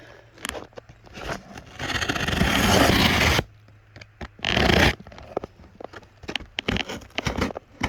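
Plastic packaging around a Miyazaki A5 wagyu ribeye being cut open: scattered clicks and rustles, then two long, loud tearing scrapes, with no talking.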